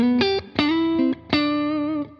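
Electric guitar chords ring through a Tone King Imperial preamp's spring reverb with the swell turned all the way down, three sustained strums each cut off with a short, quick-fading tail, played alone without talk.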